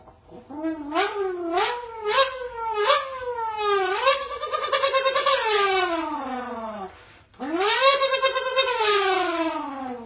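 A voice imitates a motorbike engine, with rising and falling revving pitches like gear shifts, loud and close, with a brief pause before revving up again.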